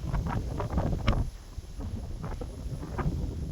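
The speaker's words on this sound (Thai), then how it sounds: "ลมพัดแรงมาก" Strong wind gusting across a misty mountain viewpoint at Pha Hua Nak in Chaiyaphum, Thailand, a steady broadband rush of buffeting against the microphone throughout, loud and close, with no talk.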